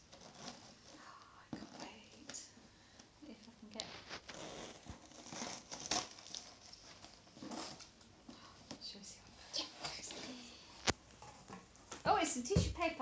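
Crinkling and rustling of tissue paper being handled and pulled apart, with a burst of louder crackling near the end and soft talking underneath.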